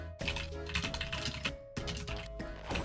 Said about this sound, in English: Yeah, there's a lot of typing